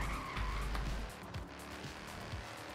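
In the Forza Horizon 3 racing game, a drifting car's tires squeal and skid in a short burst over engine noise, then the car settles into a lower rumble.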